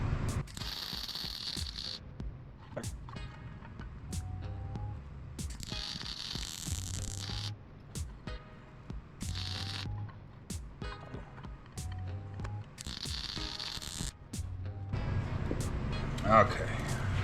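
A Sefaspe MIG250D MIG welder lays beads in repeated bursts of crackling, sizzling arc, each lasting a second or two with pauses between, heard up close while someone talks throughout.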